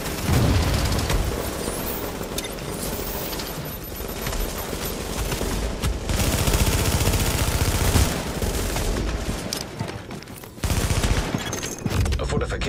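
Heavy video-game gunfire pounds a fortification: dense, continuous volleys of rifle and machine-gun fire with occasional booms, loud and close throughout, with faint voices underneath.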